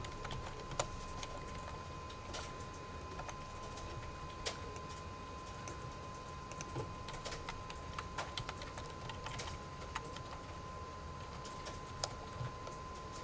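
Code being typed on a computer keyboard during a looping and iteration programming lesson, a steady run of light, irregular key clicks over a constant background hum, close but fairly quiet, with no speech.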